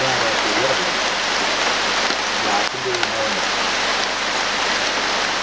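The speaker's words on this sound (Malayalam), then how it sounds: "ചെറിയ ചാറ്റൽ മഴയുണ്ട്, ചെറുതല്ല, അത്യാവശ്യം നന്നായിട്ട് മഴ പെയ്യുന്നുണ്ട്." Steady rain falls through a reserve forest along the Konni–Achankovil forest road in Kerala, a dense continuous hiss filling the whole stretch with a brief dip midway.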